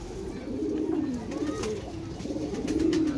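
Pakistani pigeons give low, rolling coos close by, repeated in soft throaty phrases over a murmuring background with faint chirps.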